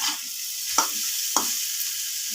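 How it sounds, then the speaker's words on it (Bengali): Soybeans stirred with spices in a frying pan, a soft continuous sizzle broken by two sharp scraping strokes of the spoon. "মশলার সাথে সয়াবিন নাড়ানো হয়ে গেছে ভালোভাবে।"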